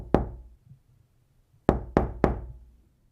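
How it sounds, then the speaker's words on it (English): Sharp knocks on a door of a clay house: a single rap, a pause, then three quick knocks in a row, crisp and close in otherwise quiet surroundings. "a sharp knock echoed through the clay house"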